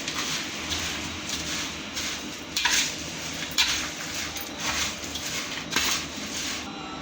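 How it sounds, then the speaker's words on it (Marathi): Poha chivda is stirred with salt and sugar in a pan, the spoon scraping and clinking against the metal in a steady run of soft rattles, with a few sharper knocks standing out. "आता हे सगळं व्यवस्थित मिक्स करून घ्यायचं"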